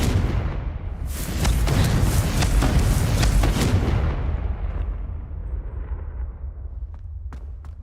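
A Confringo fire curse blast in the Hogwarts Legacy video game: a sudden loud burst that rolls into a heavy rumbling roar, fading gradually over several seconds, then a couple of faint sharp ticks near the end.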